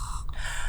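A voice imitates a hospital patient's heavy snoring with a single short, breathy, rasping snort-like intake of air, close and fairly loud, heard alone.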